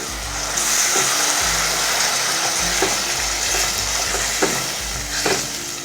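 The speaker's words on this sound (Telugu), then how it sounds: "దీంట్లో 2 టేబుల్ స్పూన్స్ పెరుగు వేసుకొని కలుపుకోవాలి" Beaten yogurt gets stirred into a sizzling pan mixture for spinach rice: a constant frying hiss up close, with regular scraping and knocking of the spoon against the pan, no voices.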